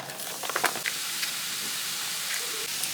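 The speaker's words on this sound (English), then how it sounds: "We're going to go ahead and cook these onions." Onions frying in a pan give off a steady, close hiss of sizzling that holds at an even level throughout, with a few faint clicks near the start.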